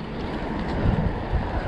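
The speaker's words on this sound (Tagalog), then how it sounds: "pasalubong kami sa malakas na hangin" A strong headwind roars across the microphone on a boat ride heading home, a steady broadband rush with brief louder gusts and no voices.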